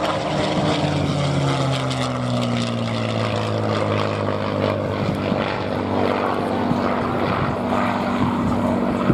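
A WWII propeller fighter aircraft named Jumping Jack, flown by the Tuskegee Airmen's 332nd Fighter Group, 99th Fighter Squadron, flies at the Dunsfold Wings and Wheels air show. Its engine drones steadily and loudly, the pitch sliding lower as it passes.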